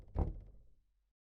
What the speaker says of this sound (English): it's knocking right outside the door.